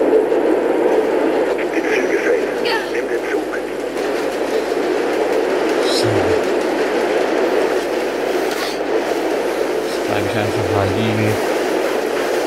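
A train rumbles past in Mirror's Edge, a steady low rolling clatter with occasional metallic squeals, heard beneath someone talking throughout.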